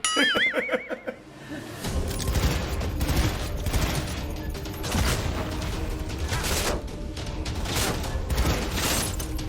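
Sustained automatic gunfire from the video game Cyberpunk 2077 erupts after a brief quiet start, dense rapid bursts and mechanical clatter running loud and continuous to the end.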